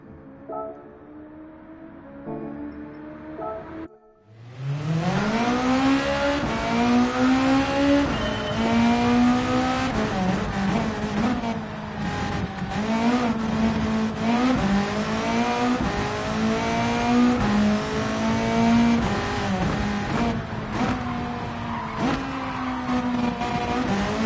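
A Ferrari race car screams through a hot lap in Gran Turismo 7, starting with a quieter idle hum, then a sudden loud engine roar that rises and drops through repeated gear shifts, sustained and close.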